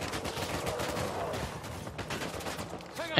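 Rapid gunfire in a car chase in the video game Uncharted 4, dense overlapping shots and bursts filling the whole stretch at moderate level, with no speech over it.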